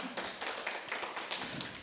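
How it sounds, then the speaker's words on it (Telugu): An audience claps after a meditation session, producing a short, faint patter of scattered hand claps that sound somewhat distant. "మరి క్లాప్స్ కొట్టాలిగా, నాకు కాదు కదా ధ్యానానికి"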